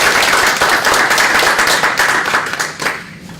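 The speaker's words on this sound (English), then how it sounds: "Applause for our guests," Enthusiastic clapping and applause from an audience at an academic library talk, loud and continuous throughout, thinning slightly near the end.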